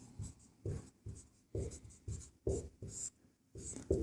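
Pen writing on paper during a Class 10 probability maths lesson, heard as close, quiet bursts of scratchy strokes in an irregular rhythm, with short pauses between words and no voice.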